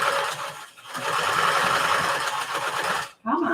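A sewing machine stitches a fabric tote over thick seams, a steady close mechanical whir that slows and briefly stops before starting again, with talk over it.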